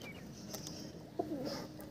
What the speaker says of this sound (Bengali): এটাও পাঞ্জাবি মালবাই পায়রা।